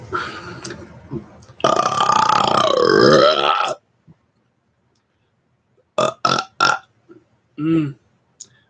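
A long, loud, drawn-out burp after eating frozen pizza rumbles close by, preceded and followed by shorter throaty sounds and brief silences.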